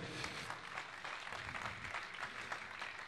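A church congregation claps in a dense, continuous patter of applause, fairly faint and heard at a distance in a large room.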